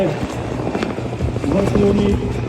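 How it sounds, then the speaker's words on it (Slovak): A twin-engine helicopter runs at full power at an air show, its steady rotor and turbine roar filling the scene while someone speaks over it. "tento vrtuľník stále plný výkon motorov, 2 motory neustále v plnom maximálnom výkone"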